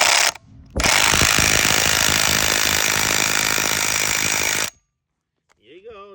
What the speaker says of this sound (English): I'm gonna use a power tools